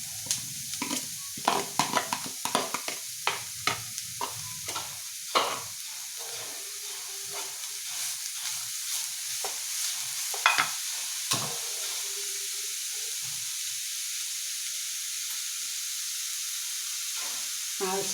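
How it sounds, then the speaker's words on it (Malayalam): Chopped beetroot for a Kerala thoran is stirred in a hot pan, with a rapid series of scraping, clattering stirs at first, then a softer steady sizzle and hiss with occasional taps. "ഇതിലേക്ക് നമുക്ക് അരിഞ്ഞു വെച്ചിരിക്കുന്ന ബീട്രൂട്ടും കൂടെ ചേർക്കുകയാണ്"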